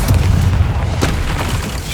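Booming explosion from the Bombarda spell in the PS5 video game Hogwarts Legacy, a dense, loud low rumble with overlapping blasts filling the whole stretch.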